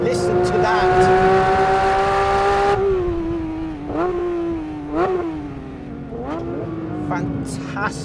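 A Porsche 992-generation 911 GT3 engine is loud and close on a racetrack, holding a steady high drone that drops in pitch, then revving back up and falling again through several rising shifts.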